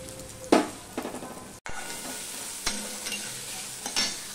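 Grated ginger sizzles in hot oil in a pan, a close, continuous fry broken by several sharp stirring scrapes and one abrupt cut-out partway through.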